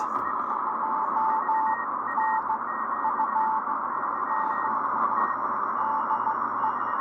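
Morse code CW tones sound through a Drake R4A receiver in CW mode with its notch filter engaged, a steady keyed beep pattern over constant band hiss and a faint second signal, no talking.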